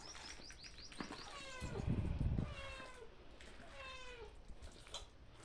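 A cat meows a few times, thin drawn-out cries at moderate distance over faint background noise, with a brief louder rustle in the middle.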